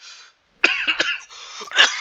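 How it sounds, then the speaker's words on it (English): A few harsh, throaty coughs up close, bursting out one after another with a brief pause before a final rough cough. "apologize for the coughs"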